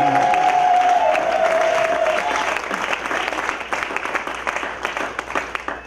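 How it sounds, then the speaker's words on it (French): A French-speaking church congregation applauds during a service, with loud, dense clapping and some cheering at first, thinning into more scattered, distinct claps while a few voices carry underneath. "nous applaudissons pour le grand roi"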